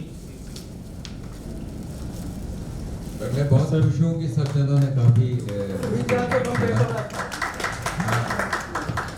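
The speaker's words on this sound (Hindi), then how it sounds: "सो सर के लिए तालियां, जोरदार तालियां" Webinar participants give a doctor a light round of scattered clapping at an Arthritis Day 2021 event; faint and brief at first, then someone talks over the thinning claps.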